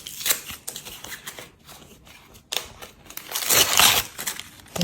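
Packaging of a Dubai chocolate bar is torn open with crinkling, crackling rustles, scattered at first and then swelling into a louder stretch of crumpling near the end.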